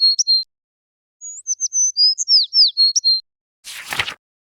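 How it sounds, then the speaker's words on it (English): A small bird tweets in quick, clear high chirps, first a short pair and then a longer run of notes, close and loud against silence, followed by a brief rough rustle. "Bird goes tweet, tweet."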